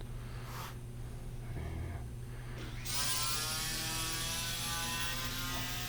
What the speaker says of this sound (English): planing the other side again now, taking it down to my thickness